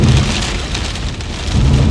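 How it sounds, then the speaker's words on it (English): Heavy thunderstorm rain in Kansas near Manhattan pours down steadily and loudly, a dense continuous hiss of drops with low rumbling underneath that swells again toward the end. "It's getting rain wrapped."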